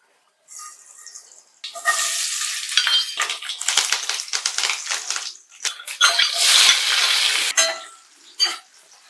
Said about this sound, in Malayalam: ഒന്ന് കടുക് വറുത്തൊഴിക്കാം.